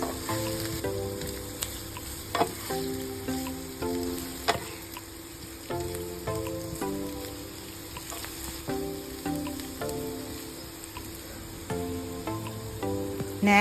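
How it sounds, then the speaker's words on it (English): Tender beef cubes with ginger sizzle steadily in a hot pan, a constant close frying crackle broken by occasional stirring scrapes and taps, with no voices. "we add the tender beef cubes. And saute it for some minutes."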